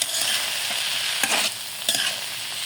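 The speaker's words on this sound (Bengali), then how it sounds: "দেখুন ভালো মতো একটু ভেজে নেব।" Banana stem and egg stir-fry in a pan under a constant hiss of frying oil, with two louder scraping stirs breaking through the steady sizzle, close and without speech.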